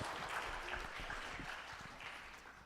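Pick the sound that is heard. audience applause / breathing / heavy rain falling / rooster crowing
audience applause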